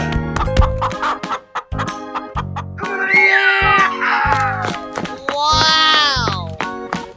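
Chicken clucking in a 3D animal slide video game, several loud close clucks and squawks mixed with game sounds and a cartoonish voice.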